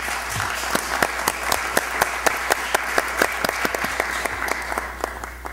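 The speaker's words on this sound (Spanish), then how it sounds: "Solicito al comité un aplauso para la Central Alerta Miraflores" Committee members at a Peruvian citizen security meeting give a steady round of applause in a room, individual sharp claps distinct and regular, fairly close, lasting the whole stretch and fading slightly at the end.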